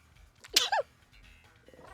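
A single sharp, close sneeze bursts out, followed by a brief high squeal-like tail, over quiet background noise.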